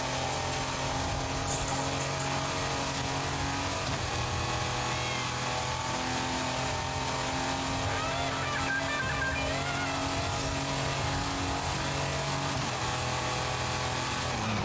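A Mazda RX-7 race car engine in the video game Forza Horizon 5 drones and revs continuously at high pitch, with shifts in tone and faint tire noise throughout.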